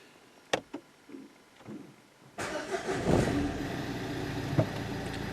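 A car engine in a repair shop cranks and fires up after a flow valve replacement: a few sharp clicks and knocks, then a sudden catch into a steady, fairly loud idle with slight revving swells.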